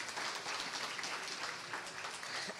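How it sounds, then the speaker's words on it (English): A crowd at an athletic fundraiser gives a round of applause, steady and even, heard a little faint and distant throughout. "Give yourselves a round of applause."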